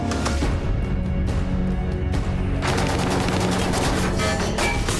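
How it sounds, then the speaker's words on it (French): Rapid bursts of gunfire crackle in a dense, continuous volley at sea, sharp repeated shots overlapping one another with no voices. "Ils nous tirent dessus!"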